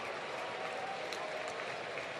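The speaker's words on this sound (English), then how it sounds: "Crowd urging Max on with a 3-2 count." Baseball stadium crowd at an Atlanta Braves game against the Giants, a steady broad roar of cheering and clapping urging on the pitcher at a full count, distant and sustained without a break.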